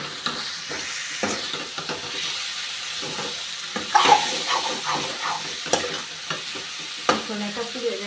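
Eggs go into well-fried spice masala in a pan for egg biryani, giving a steady sizzle and fry with repeated spoon scrapes and clinks against the pan, close up and with no talking.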